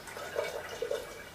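Water being poured through a NAT portable structuring unit makes a soft liquid trickle, with faint bubbling drips rising briefly over a steady low hiss.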